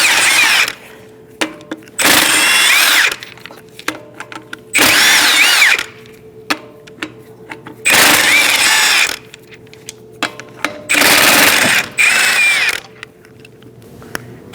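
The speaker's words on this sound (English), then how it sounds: "Using a 19mm socket, we're going to take off the lug nuts." Power tool with a 19mm socket spinning off lug nuts from a 2006-2011 Chevrolet HHR wheel, five loud whirring bursts of about a second each, separated by short pauses with metallic clinks.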